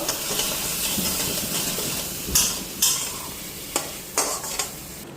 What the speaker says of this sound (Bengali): এখন মশলাটা একবার মাছের লগে ফ্রাই করে নিব।